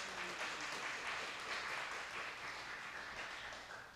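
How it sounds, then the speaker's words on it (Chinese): Clapping from a church congregation during a Chinese-language Sunday service, a soft, even spread of many hands that fades slightly toward the end, fairly distant and faint. "拍手一下"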